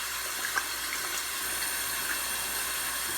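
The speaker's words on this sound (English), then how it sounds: "We rinse it with water, and we get a tissue paper and turn off the faucet" Tap water running steadily from a faucet while hands are rinsed of soap, a continuous close hiss with no talking.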